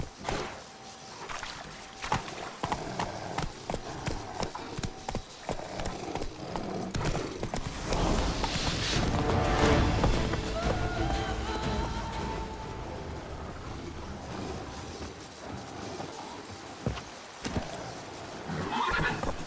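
A horse ridden in The Witcher 3 video game: rapid clip-clop of galloping hooves runs throughout, with a loud whinny in the middle, over a dense wash of ambient noise and faint splashy texture.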